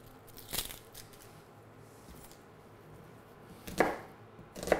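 An onion being cut for chicken curry on a board, a few sharp knife chops spaced seconds apart, close but faint, with quiet gaps between strokes and no talking.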